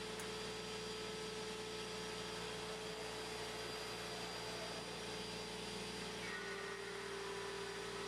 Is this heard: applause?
no